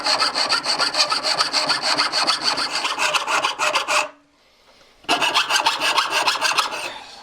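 Hand saw blade cutting through wood, cutting slowly with a harsh, scratchy rasp in quick steady strokes, close and loud, pausing briefly for about a second before the strokes resume.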